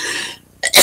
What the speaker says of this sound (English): whenever my throat gets dry, it causes me to cough